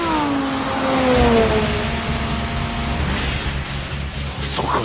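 Anime race between a Toyota GT86 and an Audi R8, with engines whining and revving close up, pitch sliding downward, then a rising whir and a brief squeal near the end.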